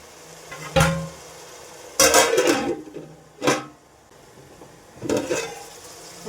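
A spoon stirs stuffed brinjal curry cooking in a pan with onions, green chillies and tomatoes, giving four separate scraping, sizzling bursts with quiet gaps between them.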